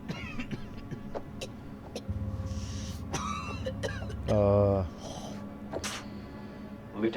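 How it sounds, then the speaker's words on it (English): A male character coughs and clears his throat in the horror video game House of Ashes, with a short rough burst standing out near the middle over a low game hum, set among other faint sounds. "That's a nasty cough."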